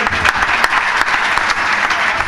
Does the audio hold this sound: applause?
yes